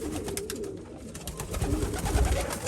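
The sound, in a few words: racing pigeons cooing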